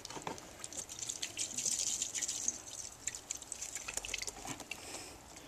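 Acetone sloshes and swirls inside the cup of a paint spray gun, making faint liquid splashes and drips that come in quick bursts with short pauses, with no speech.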